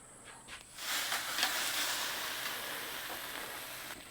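Picanha searing over an open wood fire, a broad steady sizzle that rises suddenly after a moment of near quiet and then holds loud and close with faint crackles.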